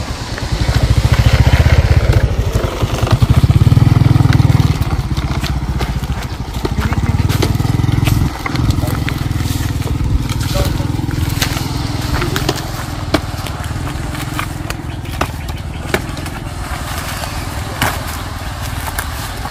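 A large yellow-flowered Melaleuca tree being cut down with a loud chainsaw, the engine roaring steadily near and close, dipping and surging as it bites, with people talking intermittently over it.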